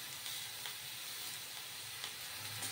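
Mango chutney is stirred in a hot pan, giving a faint, continuous sizzle and hiss with soft occasional scrapes, quiet and close, with no talking.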